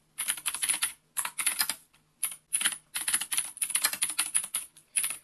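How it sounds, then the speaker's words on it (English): Someone types on a gaming keyboard in quick clattering bursts of keystrokes, close and crisp, separated by brief pauses, with no talking. "I'm really sorry if my keyboard annoys you."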